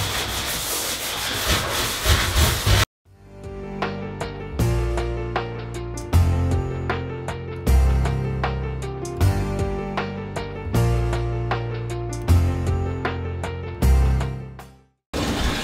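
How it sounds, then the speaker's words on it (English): A wet sanding sponge rubbing back and forth across a bathtub surface to feather out chips, loud steady rasping strokes in a repeated rhythm after a brief pause. "these sanding sponges are working really well with feathering those chips out and smoothing them out"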